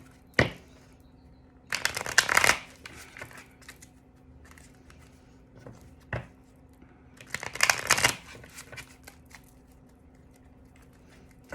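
Tarot cards are shuffled and drawn in short, crisp riffling bursts separated by quiet pauses, close and fairly soft, with a few single card snaps between.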